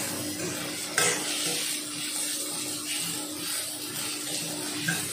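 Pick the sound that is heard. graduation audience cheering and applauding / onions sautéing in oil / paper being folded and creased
onions sautéing in oil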